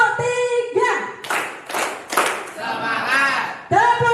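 A school class claps in sharp, rhythmic bursts while voices chant together in Indonesian, the claps landing in a quick patterned sequence between the spoken lines.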